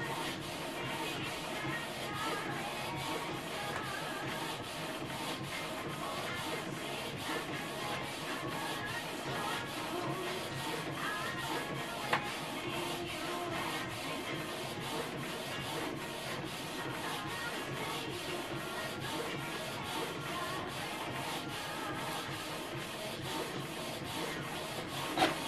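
A steady mechanical whirring and rubbing drone of a Canon TS9155 inkjet printer feeding paper and printing an alignment page, continuous and even throughout, close and fairly quiet.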